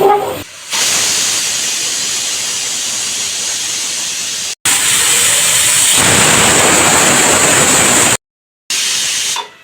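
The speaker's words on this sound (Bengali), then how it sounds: "এবার আমি এটা দিয়ে দিলাম সিটি ওঠার জন্য।" A pressure cooker full of meat lets off steam. Loud, continuous hissing whistles run in long bursts, each stopping abruptly, with no voices.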